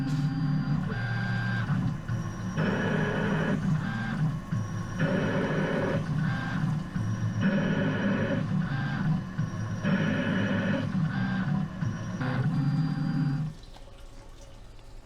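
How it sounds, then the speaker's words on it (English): CNC lathe cutting a thread with a threading tool, a steady whirring machine tone broken into repeated regular passes, each a few seconds long, near and fairly loud before stopping. "the next tool we're going to be throwing in is the threading tool, which is going to put the thread on the part"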